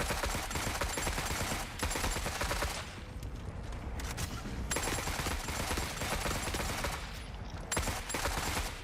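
Stock AK rifle fire in The Forever Winter, a dense, continuous clatter of gunfire amid battle noise, with brief dips around the middle before the shooting resumes.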